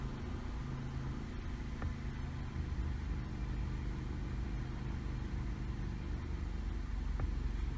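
Steady low idle of a Nissan Sentra engine during an idle air volume relearn, a constant close rumble with no revving and no talking.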